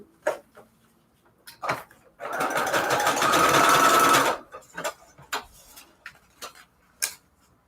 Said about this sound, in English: Once you zigzag stitch it like this